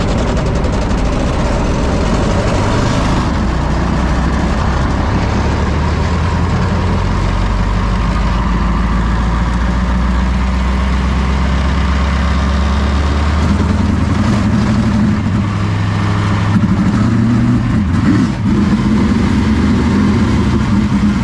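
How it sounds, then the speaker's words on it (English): Sprint car engine running on 360 and 410 setups in a race shop, idling loud and close as a deep, rough, steady rumble that holds throughout with slight shifts in tone, no talking. "So the car fired up"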